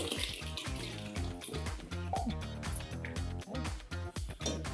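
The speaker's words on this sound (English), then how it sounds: "So we'll add this tuar dal to the vegetables." Boiled tuar dal pours into a pan of cooking vegetables with a thick, wet glugging and splashing rush, close and continuous for a few seconds without speech.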